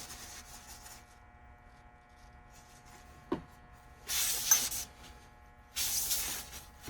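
Shellac sealer is sprayed onto a woodturning. Two distinct close hissing bursts of about a second each follow a quiet stretch, with a brief knock in between and faint background hum.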